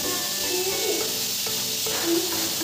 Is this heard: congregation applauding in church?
no